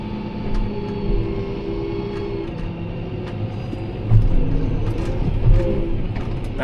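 A tractor tips a trailer load of first-cut silage into a pit, giving a steady engine rumble with a low mechanical drone and occasional heavier surges, with no voices.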